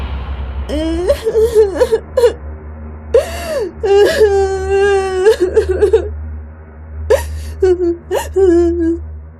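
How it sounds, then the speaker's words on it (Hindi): A young child of about four or five wails and sobs in a Hindi bedtime story, with several drawn-out cries broken by gasping breaths and whimpers, loud and close, alone without other talk. "एक 4-5 साल का बच्चा रो रहा था।"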